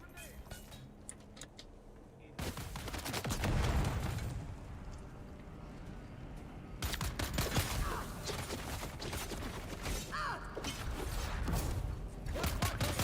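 Rapid bursts of gunfire in the sci-fi survival game Dune Awakening, dense crackling volleys that start after a quieter opening and keep on at close range over the rest of the fight, with other game effects mixed in.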